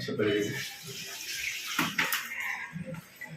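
Water poured onto a golden pothos money plant in a balcony pot, a close splashing trickle with intermittent gurgles, heard under a person talking.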